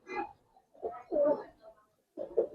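Giribaz highflyer pigeon cooing nearby in three short, soft bursts separated by brief pauses, fairly quiet and alone.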